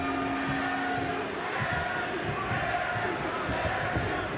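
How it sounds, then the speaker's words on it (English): Arena crowd at an MMA fight between Raufeon Stots and Danny Sabatello roars steadily as round two begins, a dense continuous wall of cheering with no breaks. "Crowd fired up here as we begin round number 2"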